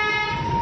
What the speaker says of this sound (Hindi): चलिए हॉर्न।